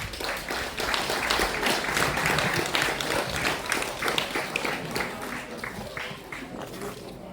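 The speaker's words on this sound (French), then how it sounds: "Veuillez applaudir s'il vous plaît." Sustained applause from a crowd at a Légion d'honneur ceremony, a dense steady clapping that carries on loud throughout and fades slightly toward the end.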